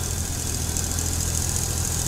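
Swaraj 855 tractor engine in Farming Simulator 22, stuck in a ditch, running with a steady, continuous mid-low drone and hiss that holds level throughout, with no voices over it.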